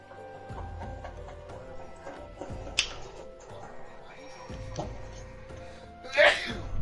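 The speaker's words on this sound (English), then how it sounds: "I heard a sneeze, that's all I did." A short, sharp sneeze bursts out near the end, preceded by quiet background noise and a few soft clicks, during Final Fantasy XIV play.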